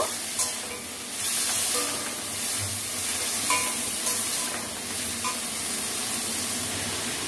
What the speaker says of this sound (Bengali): এবার উচ্ছেগুলোকে ভালো করে ভেজে নেব